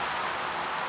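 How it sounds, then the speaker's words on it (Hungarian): Heavy pouring rain as a dense, steady hiss of falling water, loud and continuous over a brief moment with no talk. "csak azért ültem le egyébként, mert szakadó eső"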